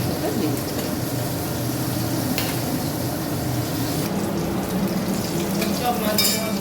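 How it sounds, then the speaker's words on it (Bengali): Pieces of bata fish fry in hot oil in a pan, giving a steady, dense sizzle that runs close and unbroken throughout, with faint stirring noises in the mix. "সব মাছ আমার ভাজা হয়ে গেল"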